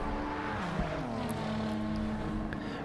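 Race car engine revving hard and accelerating in Gran Turismo 7 on the St Croix circuit, a steady loud droning whine with rising tones throughout, no voices.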